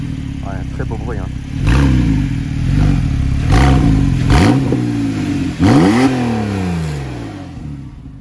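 A Porsche 911 GTS engine revs in a series of rising and falling blips, loud and close, with people talking over the engine notes throughout.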